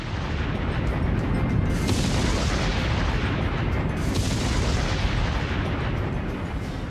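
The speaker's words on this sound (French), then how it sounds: "Vous allez assister à une explosion redoutable," A huge TNT blast staged by the US Navy on Kahoʻolawe island to simulate an atomic bomb gives a loud, sustained rumbling roar, with fresh surges breaking in about two and four seconds into the clip, and no voices.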